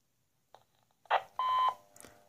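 A handheld transceiver keys a radio repeater on a mountain, answered by short beeps and a steady tone lasting about a second, close and clear, then silence.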